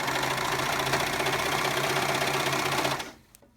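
A sewing machine stitches fabric in one loud, steady mechanical run of rapid motor whir and needle rhythm close by, stopping sharply near the end.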